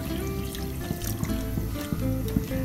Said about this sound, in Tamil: நமக்கு தேவைக்கு தகுந்த மாதிரி பால் ஊற்றலாம்.